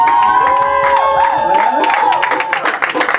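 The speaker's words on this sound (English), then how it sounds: "Give brother Marquise a round of applause." Applause and cheering for a speaker at a church Black History Month men's day event, a crowd clapping and whooping loudly for a few seconds, with voices calling out through it.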